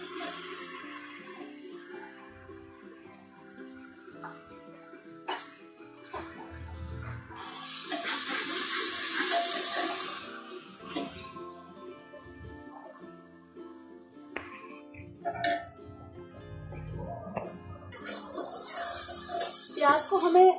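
Onions go into a hot pan with ginger garlic paste while cooking a gourd and mutton curry, giving a steady hiss of sizzling that swells and fades, with occasional clinks of a utensil in the pan.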